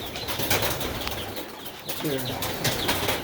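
Grizzle pigeons in a pen flutter and shuffle, with soft wing flaps and a few faint coos close by, while someone speaks briefly over them.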